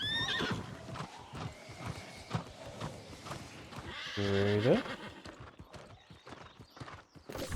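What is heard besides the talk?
horse hooves and neighing in video game New World Aeternum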